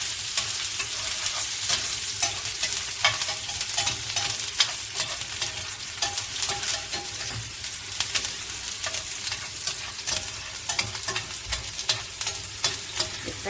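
Onions frying in a pan for chakalaka, sizzling steadily while being stirred, with frequent scraping and crackling ticks and no one talking.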